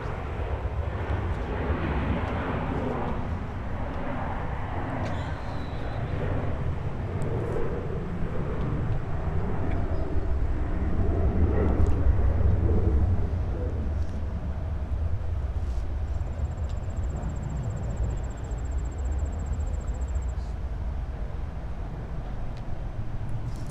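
A Lockheed C-130 military transport making a tactical landing at Minneapolis–St. Paul airport gives a steady, broad engine roar at a moderate distance, swelling slightly midway and holding for over twenty seconds with no talk.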